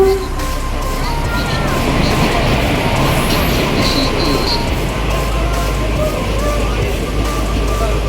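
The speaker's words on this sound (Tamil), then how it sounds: "நம்ம ட்ரெயினும் வந்துருச்சு. ஸோ கரெக்ட் டைமுக்கு வந்துச்சு." The Maveli Express rumbles and clatters loudly into a station on the way to Alleppey in Kerala, with continuous heavy rolling noise, squeals and hum close by.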